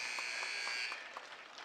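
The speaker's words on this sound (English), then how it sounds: "Buzzer sounds" A basketball game buzzer blares in a gym at the end of play, one sustained electronic tone that cuts off after about a second, over crowd noise and faint sneaker squeaks.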